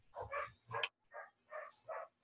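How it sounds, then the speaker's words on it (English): A dog barks repeatedly nearby, five or six short, evenly spaced barks in quick succession, standing out alone against a quiet indoor background. "Ang ingay ng dog!"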